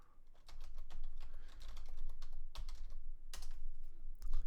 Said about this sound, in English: So I'm gonna type in URL-shortener.